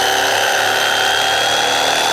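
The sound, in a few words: electric carving knife cutting upholstery foam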